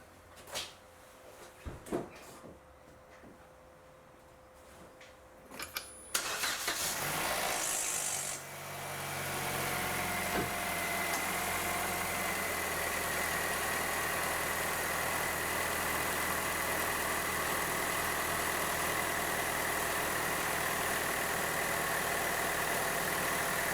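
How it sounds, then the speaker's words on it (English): A 2015 Vauxhall Zafira 1.4 petrol engine cranks and catches after a few clicks and thumps, then settles into a steady, loud, close idle hum. "now I'm gonna get the car started"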